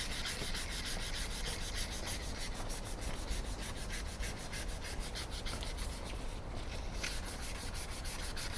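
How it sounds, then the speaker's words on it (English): A chisel being sharpened by hand, rubbed back and forth on wet and dry abrasive paper, giving a steady, close, continuous rasping scrape with a quick rhythmic stroke pattern and no talk. "you put some wet and dry paper on it, the different grades, and you rub it along them"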